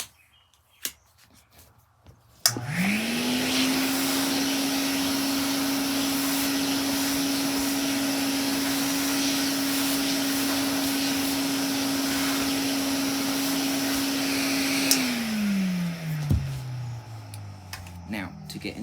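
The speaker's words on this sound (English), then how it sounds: "got some more nasties, which we're going to suck up with the Hoover Constellation." A Hoover Constellation vacuum cleaner switches on after a few quiet seconds, spins up to a loud steady whine for about twelve seconds, then winds down as the motor slows, heard close up.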